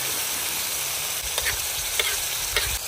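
Sizzling of a tomato and green chilli masala in a village kitchen as yogurt goes in, a steady broadband hiss with a few soft splutters and stirs near the end, no voices.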